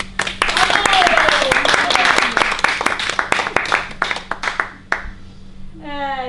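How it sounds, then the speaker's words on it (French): Audience clapping at a comedy touring show, starting as a full burst of applause over a voice, then thinning into scattered separate claps that fade out before a short sung or whistled phrase. "On l'applaudit."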